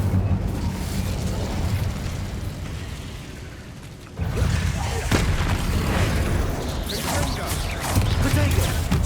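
An Incendio fire spell is cast in Hogwarts Legacy. A sudden whooshing boom cuts in partway through, followed by a sustained roaring, crackling burn and scattered bursts over the game's background din.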